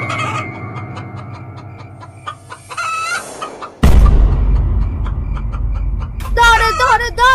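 Cartoon chickens squawk and cluck frantically as a fox carries them off in a Bangla animated story; loud, agitated bursts of clucking and squawks come amid other cartoon sound effects and raised voices.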